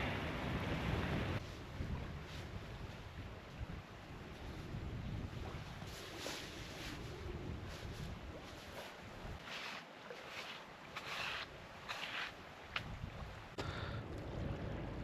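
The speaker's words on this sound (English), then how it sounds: "the wind out there is relentless" Strong wind buffets a tent during wild camping in Scotland, a steady loud roar with gusting flaps and rustles of fabric throughout, no voices.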